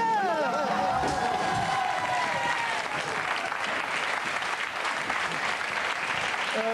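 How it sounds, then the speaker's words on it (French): A studio audience breaks into loud, sustained applause with some cheering for a stuntman in a Canal+ comedy sketch. It fills the whole stretch and dense clapping continues throughout, with a brief tonal sound near the start. "On applaudit pour le cascadeur."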